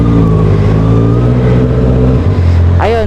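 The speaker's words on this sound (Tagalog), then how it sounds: "So yan, nasa number ng cylinder natin, so 4, kaya ganito po tumunog yung motor natin." Inline-four motorcycle engine held at a steady high rev, a dense buzzing drone that dips briefly before rising again with a sharp rev near the end.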